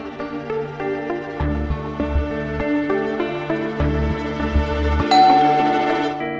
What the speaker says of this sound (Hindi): कभी फोन की घंटी कभी दरवाजे की घंटी